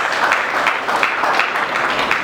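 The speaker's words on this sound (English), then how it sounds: "We deserve to clap for ourselves." Audience applause at the Nigeria International Print Expo, a steady wash of many hands clapping, fairly loud and even, with no clear voices over it.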